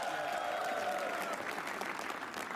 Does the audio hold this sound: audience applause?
yes